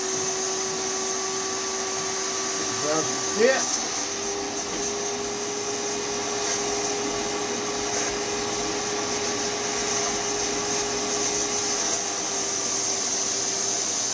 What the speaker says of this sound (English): now I'm going to turn the vacuum back on